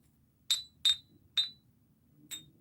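Mid-century glassware from a thrift store is tapped four times, each strike giving a bright, clear ringing clink that fades quickly, with the first three close together and the last after a short pause.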